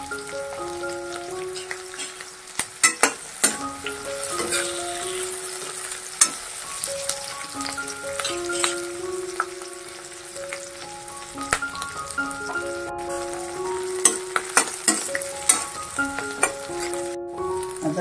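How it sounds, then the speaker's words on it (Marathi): Onion and capsicum fry in a pan for a village-style Maharashtrian mushroom masala, giving a steady close sizzle with occasional sharp stirring clatters throughout. "चांगलं परतून घ्यायचंय। फ्रायचा वास आला पाहिजे कांद्याला पण आणि शिमला मिरचीला पण।"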